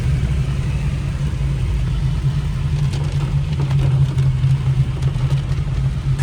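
Car driven again after sitting unused for four months: a steady low engine rumble and road drone heard from inside the cabin, continuous and moderately loud with faint rattles, no talk.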